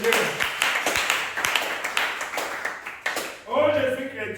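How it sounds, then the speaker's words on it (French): A church congregation at a Tuesday worship service claps in an uneven rhythm of sharp hand claps, with a voice speaking over the clapping and some singing near the end. "Applaudissez pour le Seigneur."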